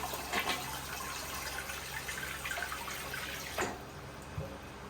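A slow-draining toilet bowl with steady faint gurgling and trickling water, low and continuous, with a couple of soft sloshes near the end and no talking.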